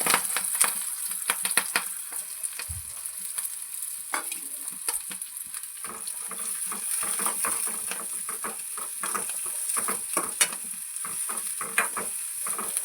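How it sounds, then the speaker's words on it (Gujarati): Mustard seeds, chillies and onion crackle in hot oil in a pan for Maggi noodles, a dense run of sharp pops and spits over a steady hiss, close and lively, with no voices. "એમાં રાઈ નાખીને આપણે એમાં મરચાં નાખશું. પછી ડુંગળી નાખશું."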